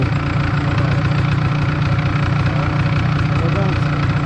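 An MZ ETZ 250 motorcycle engine idles loud and close with a steady, throbbing low rumble, while people talk over it throughout.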